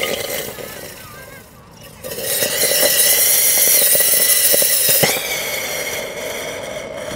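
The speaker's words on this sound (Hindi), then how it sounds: "और अब चलाते हैं इस बटरफ्लाई क्रैकर को, तो देखते हैं क्या होता है, कैसे घूमता है।" A butterfly firecracker set off during Diwali fireworks whirls with a loud sustained hiss and whine for several seconds, with sharp crackles scattered through it before it fades slightly.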